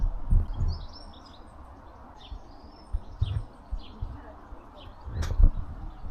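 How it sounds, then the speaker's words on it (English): Birds in trees near a sunny balcony chirp faintly in short scattered calls, while soft low thumps and light background noise sit beneath them. "I listen to the sounds of the birds from the trees"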